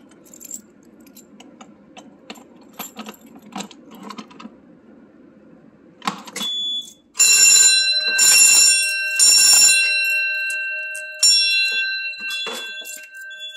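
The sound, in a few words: fire alarm bell ringing during furnace system test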